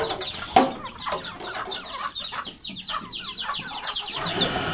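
Several chickens in rural Laos cluck and squawk close by in a busy, irregular chorus, with one sharp loud squawk near the start.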